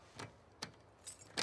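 Faint metallic jingles of a set of keys in The Last of Us Part II, four short shakes spread over a quiet stretch with no voices.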